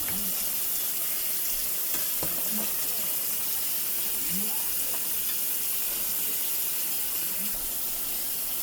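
Washed spinach greens with some stalks drop into fried spices in a pan, giving a loud, continuous sizzle with scattered soft knocks and scrapes throughout.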